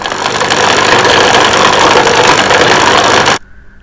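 A blender whirring loud and steady as it purées a homemade chicken sausage mixture made without egg, ginger or garlic, running continuously for over three seconds before cutting off abruptly.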